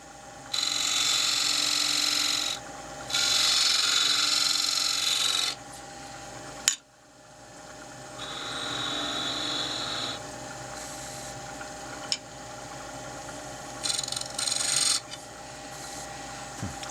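A half-inch skew chisel, used like a negative rake scraper, cuts a small cherry bowl on a wood lathe in repeated scraping bursts of a few seconds each with short pauses between them, close and steady, no voices.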